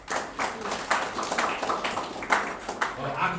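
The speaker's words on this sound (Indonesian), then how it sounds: "Wow, tepuk tangan dulu dong." A church congregation claps during a sermon, scattered, uneven hand claps in short bursts with voices mixed in, moderately close and fairly light rather than a full ovation.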